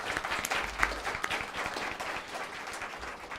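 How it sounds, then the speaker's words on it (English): An audience claps for panel speakers at an eviction prevention summit, a moderate wash of applause with a few sharper individual claps, fairly distant and steady throughout. "can we have a round of applause for our speakers?"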